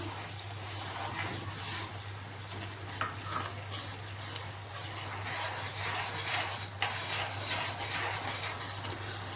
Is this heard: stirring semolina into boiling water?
yes